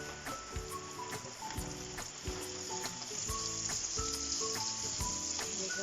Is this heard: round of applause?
no